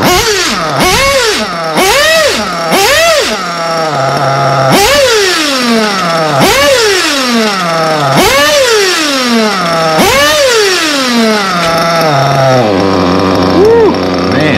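A ProTek RC Samurai .21 nitro engine revs in a series of loud, sharp throttle blips, each climbing then dropping in pitch, about eight bursts over a steady idle.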